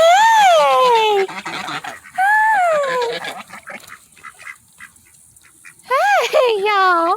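Ducks and geese honk and quack outdoors in the rain, loud nearby calls in several strong bursts separated by quieter gaps.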